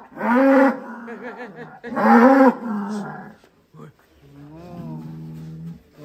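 At a cattle contest on a farm, a cow bellows loudly twice in long, drawn-out moos, close by, followed by a quieter lower mooing call near the end.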